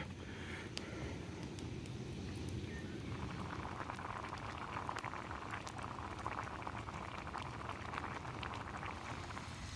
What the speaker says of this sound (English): I've managed to simmer all the water off, or excess water.